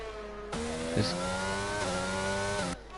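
A Williams F4 race car in a PlayStation racing game brakes toward the first turn on a Netherlands circuit, its loud, high engine whine stepping down in pitch through quick downshifts, then holding steady before cutting off near the end.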